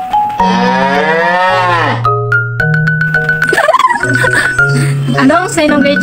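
A cow moos in long, loud, drawn-out calls, one after another, with a wavering rise and fall at close range.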